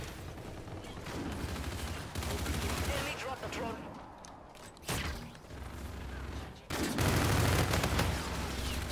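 Rapid gunfire in Call of Duty: Infinite Warfare gameplay, dense bursts of shots and mechanical clatter running throughout at moderate level.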